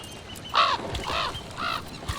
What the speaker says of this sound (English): Hello, bird.